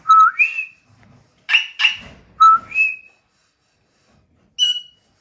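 A pet parrot whistles in clear, bright rising notes, several short phrases separated by pauses, including two-tone upward slides and a final short whistle, close and loud with no talking.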